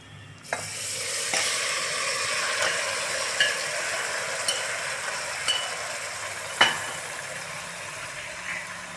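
Marinated meat lands among browned onions in a single pot for Muradabadi biryani, giving a loud, steady close-up sizzle broken by a few sharp spoon clinks and scrapes.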